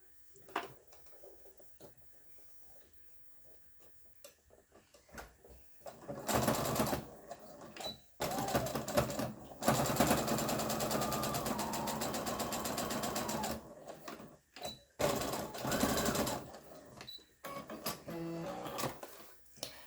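A sewing machine stitching fabric runs in several loud bursts of a few seconds each, separated by short pauses and quieter handling noises.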